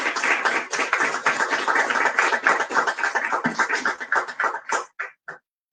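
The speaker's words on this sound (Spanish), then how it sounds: "Un fuerte aplauso, por favor." Audience at a book presentation gives a strong round of applause, dense clapping that holds steady then thins to a few scattered last claps and stops.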